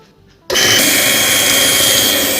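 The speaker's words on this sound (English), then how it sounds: "And now we whisk it even more." An electric mixer suddenly whirs to life, whisking cake batter after sugar is added, a loud steady motor drone that carries on unbroken after a brief quiet start.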